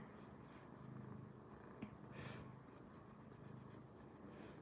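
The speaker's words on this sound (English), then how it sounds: "you can hear Mitty purring" Mitty the cat purrs softly on a lap, a low continuous rumbling hum that stays steady and close throughout, with no talking.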